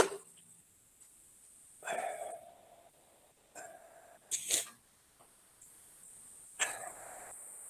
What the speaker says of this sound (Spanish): un segundito que voy a toser